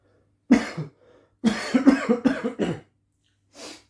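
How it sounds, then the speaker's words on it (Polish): A man coughs several times in a row, an isolated cough followed by a close, loud burst of repeated hacking coughs and one fainter cough at the end, with no talking. "sąsiad kaszlał"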